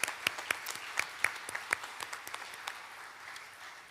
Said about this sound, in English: can we have a round of applause for our Kanjira and rhythm pad